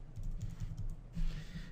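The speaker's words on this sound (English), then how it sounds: "you can start typing away" Keys clatter on a computer keyboard as text is entered into the nano editor in a terminal, a quick uneven run of close clicks with a brief denser burst near the end.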